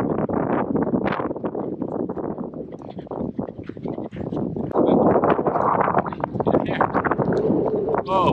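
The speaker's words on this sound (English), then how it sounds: "it's gonna be windy up here." Strong gusty wind buffets the microphone on an open levee near Sacramento during a dog walk, a constant loud roar that swells midway.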